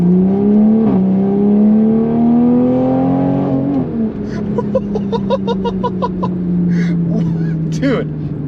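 A Toyota Supra sports car engine revs up in rising sweeps, then drops back and lets off a rapid run of crackling exhaust pops. The sound is loud and close, with talk over parts of it.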